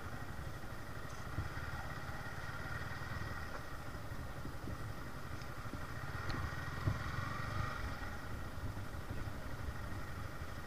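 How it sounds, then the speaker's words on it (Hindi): A motorcycle engine idling at low volume in a parking area in Assam, a steady, even rumble that runs unbroken throughout, with faint clatter and a slight swell near the end. "पार्किंग में लगाना है मेरे बाइक को।"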